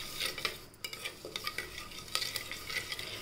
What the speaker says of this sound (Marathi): पण आता त्याच्यात चांगलं परतून घेऊया।